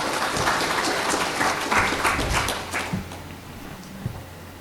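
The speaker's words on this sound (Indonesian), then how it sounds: "Tepuk tangan." A crowd at a graduation ceremony in Merauke, Indonesia, claps steadily in sustained applause that gradually thins out and fades, with a few scattered claps at the end.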